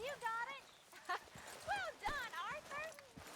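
Horse hooves clip-clop on the ground in the video game Red Dead Redemption 2, a few soft, irregular steps close by, half buried under steady talking.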